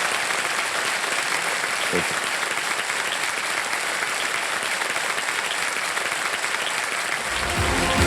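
A studio audience on a television quiz show applauds, a dense and continuous roar of clapping that holds steady and loud throughout, with no talk over it.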